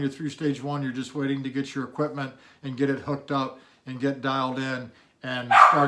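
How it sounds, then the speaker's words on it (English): A dog lets out a single loud bark near the end, cutting in over steady nearby speech about a job's onboarding stages. "Sorry, that's my dog. He'll be okay, his name's RT. He may bark some more"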